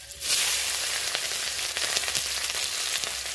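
Chopped onion hitting hot oil with bay leaves and dried red chillies, breaking into a loud, steady sizzle that holds evenly with small crackles throughout.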